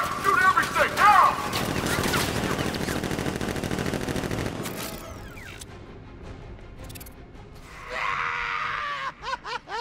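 Rapid gunfire in Batman Arkham Knight, a dense burst of shots with yelling and groans, followed by crashes and shorter scattered blasts as the firing thins out.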